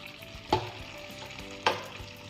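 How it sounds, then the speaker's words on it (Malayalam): Quail roast is stirred in a pan: a low, steady frying sizzle broken by two short, sharp scrapes of the spoon, heard up close without talking. "ഇത് നന്നായി ഇളക്കിയതിന് ശേഷം നമുക്ക് ഫ്ലെയിം ഓഫ് ചെയ്യാം"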